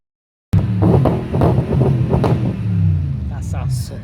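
A BMW car engine revs hard close by, a deep throaty rumble that swells and surges over a few seconds with wind buffeting the microphone.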